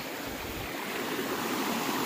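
A small mountain stream flows with a steady, broad rushing hiss, close and continuous with no other sounds.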